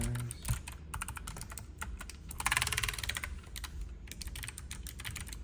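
Rapid, close clicking from typing on a Redragon Azure 75% low profile wireless mechanical keyboard, keystrokes coming in quick bursts with a short flurry of faster, louder presses midway, and no speech.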